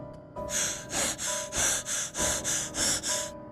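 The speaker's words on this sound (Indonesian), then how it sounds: "Napasku terengah-engah." Rapid, heavy panting breaths, about ten sharp rhythmic huffs in quick succession, close and loud with no talking.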